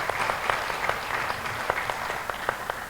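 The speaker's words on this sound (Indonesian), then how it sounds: "Tepuk tangan buat Ibu." Audience applause at a church panel session on the economy, a steady wash of many hands clapping with sharper individual claps popping through, moderately loud and continuous.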